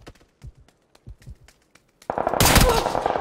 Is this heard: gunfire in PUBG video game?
yes